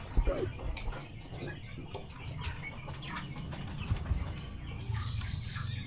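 Breeder chickens cluck and murmur softly around a DIY feeder in a busy coop, with scattered small clicks and rustling throughout and a low background hum.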